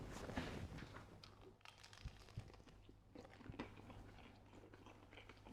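Quiet, close biting and chewing of a Birds Eye gravy loaded burger, with soft crunches and wet mastication sounds and no talk.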